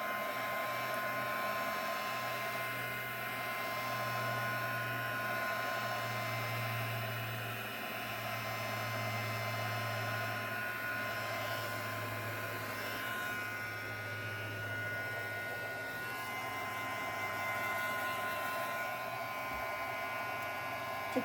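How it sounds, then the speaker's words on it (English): A heat gun blows a steady, loud broadband hiss for the whole stretch while passing over a fresh ocean-style resin pour to pop surface bubbles; any tiny pops are lost under the constant airflow. "I can see all these little pops happening as I go with the heat gun."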